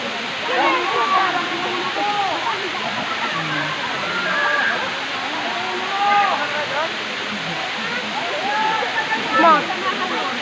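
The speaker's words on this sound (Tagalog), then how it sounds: "Ayan po ang falls nila." A waterfall in Tanay, Rizal rushes in a constant, even roar, while nearby voices speak intermittently over the falling water.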